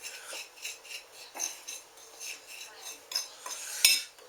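Brown sugar dry rub being mixed in a bowl for pork loin, with soft rhythmic scraping and rubbing strokes repeating steadily, close and fairly quiet, ending in a brief sharp clink.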